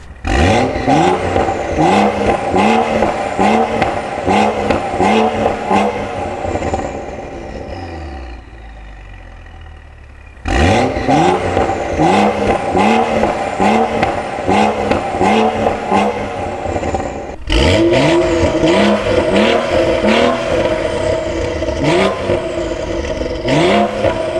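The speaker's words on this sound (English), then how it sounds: "you just heard the revs from the Dinan muffler and that setup" BMW N55 engine with a Dinan muffler exhaust revs loudly and repeatedly in sharp rising bursts, dips to a quieter idle around the middle, then resumes revving close by with no talk.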